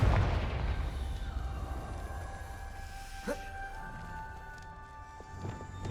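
A Confringo spell blast in the video game Hogwarts Legacy, heard as a booming explosive burst over a rumbling game background, with ringing tones and a second hit near the end.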